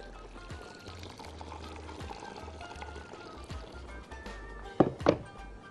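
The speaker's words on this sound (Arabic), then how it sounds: "هزود مرقه سخنه طبعا، ميه قصدي سخنه" Hot water poured into a pot of rice and chicken: a short, splashing pour near the end over a steady low kitchen hum with scattered faint knocks.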